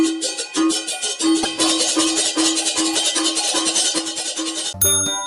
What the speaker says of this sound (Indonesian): Cengceng adalah alat musik tradisional Bali jenis idiopone yang terbuat dari perunggu atau logam.